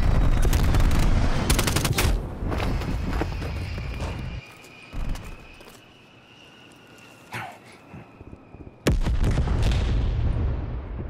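Bomb strike explosions and rapid gunfire in Call of Duty Black Ops Cold War, Demolition mode on Nuketown: loud bursts of automatic fire and heavy booms, then a quieter lull with scattered shots, then another sharp burst of fire.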